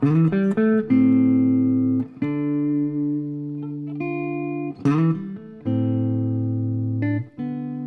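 A lead electric guitar solo plays a short melodic phrase of sustained, bending notes with a processed, slightly distorted tone, loud and with no voice.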